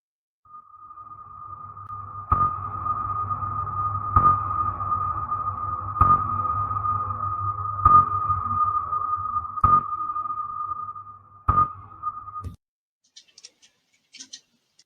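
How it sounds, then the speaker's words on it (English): Submarine sonar pings: a sustained tone with six sharp pulses spaced about two seconds apart over a low rumble, then a brief faint crackle after it stops. "those were the sound emitted by a sonar fitted in a submarine"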